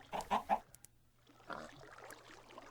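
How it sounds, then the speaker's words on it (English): Minecraft chicken clucking: three quick close clucks, then a softer cluck after a pause, with quiet game ambience behind. "see if you can pick up the chicken"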